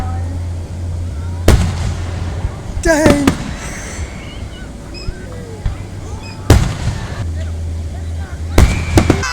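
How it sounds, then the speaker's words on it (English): Fireworks at a 4th of July show burst in several loud, sharp explosions with crackling pops spread across the stretch, separated by quieter gaps, while a voice reacts briefly in between. "And then we went to a fireworks show for 4th of July."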